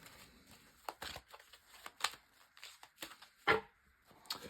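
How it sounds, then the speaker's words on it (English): Quick bursts of tarot cards being shuffled, riffling and tapping in short irregular flurries, close and fairly quiet with no talking. "So first of all, a good shuffle and just focusing around you."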